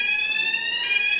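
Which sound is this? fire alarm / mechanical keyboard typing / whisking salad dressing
fire alarm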